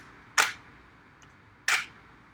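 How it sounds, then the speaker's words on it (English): Two separate camera shutter actuations at a slow shutter speed, each a sharp crisp mechanical click with a bright burst, spaced about a second apart against a quiet background. "slower shutter speeds where the camera shutter speed is much slower and you hear the close of the curtain"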